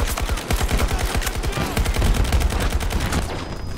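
Battlefield 2042 automatic gunfire rattles nonstop in a fast, even stream of loud close shots, with a few brief gaps near the end.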